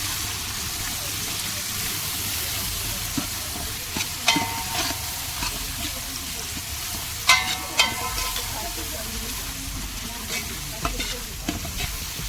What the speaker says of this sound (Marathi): कांदा चांगला परतून घेऊया